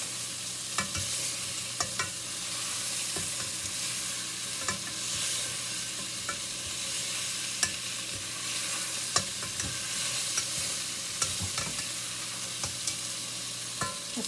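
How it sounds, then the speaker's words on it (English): Beef browning in a pan for stew, an even close sizzle with repeated scraping stirs and occasional utensil clicks. "Just want to get it all browned a little bit."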